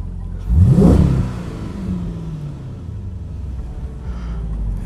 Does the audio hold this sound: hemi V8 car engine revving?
yes